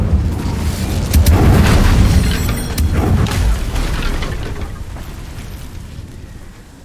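Incendio fire spell in the Hogwarts Legacy video game: a loud, close whooshing burst of flame that swells for a couple of seconds, then rumbles and fades away without any voices.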